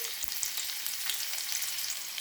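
Chopped garlic and ginger fry in hot oil in a pan for ragi soup, giving a continuous, even, hissing sizzle with no speech.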